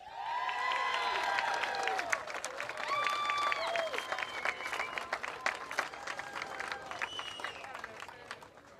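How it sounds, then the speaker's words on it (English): Crowd applause and cheering for the trophy-winning driver at the Seafair Apollo Mechanical Cup in 2025, with clapping beneath prominent whistles and shouts at an outdoor event. "Let's give him a round of applause one more time"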